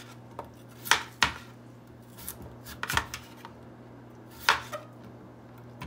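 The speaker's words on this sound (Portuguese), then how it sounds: "Agora eu vou cortar a batata." Potatoes sliced with a knife on a home kitchen cutting board, a handful of sharp, close chopping knocks spaced irregularly over a faint steady background hum.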